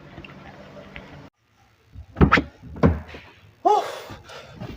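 A few solid thuds of a 2015 Range Rover Autobiography long-wheelbase car door being shut, with a brief quiet gap before them and some handling noise in between.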